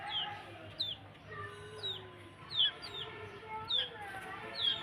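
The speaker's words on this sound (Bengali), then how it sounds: "মুরগি দেখছেন?" Chickens on a farm cluck and chatter close by, repeated short calls rising over a low background hum, with faint voices nearby.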